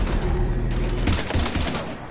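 Rapid overlapping gunfire from a firefight in the video game Mass Effect 3, a loud dense burst of shots layered with explosions and rumble, filling the whole moment.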